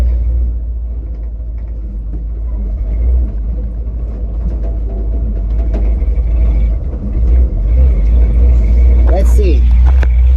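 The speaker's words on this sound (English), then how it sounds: "the motor seems to be dragging a little bit" A 1970 Ford 600 hay truck engine runs under load with a hay bale load on the back, giving a steady, loud, deep rumble that holds throughout, with a brief voice speaking over it.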